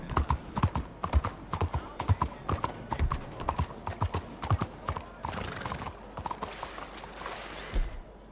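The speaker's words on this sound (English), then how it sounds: "you can just whistle and like a horse will come out of nowhere" A horse gallops in the video game Red Dead Redemption 2, its hooves beating out a loud, steady, rhythmic clip-clop that stays close throughout.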